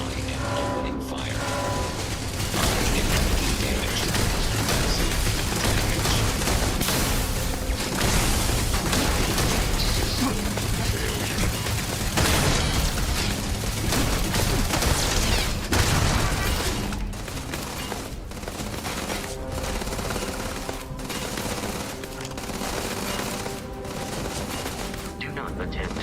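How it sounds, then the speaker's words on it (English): A video game battle roars with sustained gunfire, dense automatic bursts and mechanical clatter filling the whole stretch loudly, while a synthetic voice speaks over the shooting. "Enemy detected in the immediate vicinity. I am opening fire."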